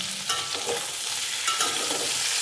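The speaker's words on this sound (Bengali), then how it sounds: "ফুলকপি আর আলু ভাজা হচ্ছে" Steady frying sizzle of cauliflower and potatoes fills the whole stretch, with occasional scraping stirs of a spatula over the pan.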